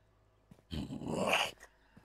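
Dog growling in the horror video game Slendytubbies 3: a single snarling growl of about a second, loud and close, with a few faint clicks before and after and no speech.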